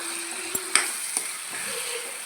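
Egg tomato curry stirred in a pan, a few quick spatula clicks and scrapes over a soft, steady simmering sizzle, close and quiet, without speech.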